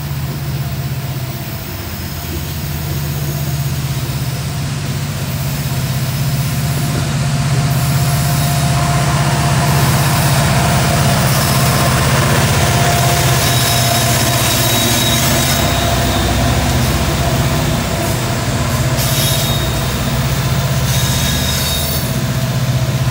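A heavy freight train climbing a grade, its distributed power locomotive working hard with a loud, sustained engine roar and wheel squeal that stays steady and close for the whole stretch, with no voices.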